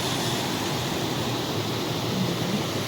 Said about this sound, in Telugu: చూస్తున్నారా ఎంత సౌండ్ అవుతుంది డ్యామ్